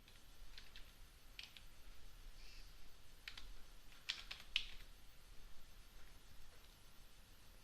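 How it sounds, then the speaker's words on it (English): Keys tapped on a computer keyboard while working in a Linux terminal: a few sparse, faint clicks spread over a quiet background, with no talk. "And now I can press Ctrl X to leave, and I press yes to save, and I press enter"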